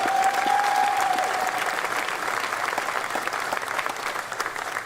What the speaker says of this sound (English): How about a round of applause for Gary?